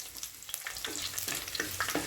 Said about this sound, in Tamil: இந்த நல்லெண்ணெயில் இந்த வெள்ளைப்பூடை போட்டு தாளிக்கும் போது அருமையான ஒரு வாசம் இருக்கும்